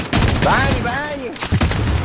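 Rapid gunfire bursts from a Call of Duty Warzone match crack loudly and densely, overlapping with excited voices and in-game sounds.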